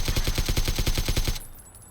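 An automatic weapon in PUBG fires at a loot truck, about a dozen rapid, loud, evenly spaced shots in a steady burst that stops abruptly, leaving a faint tail.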